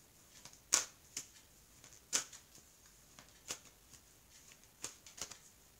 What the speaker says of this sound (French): Je vais battre les cartes, puis je vais recouvrir le jeu.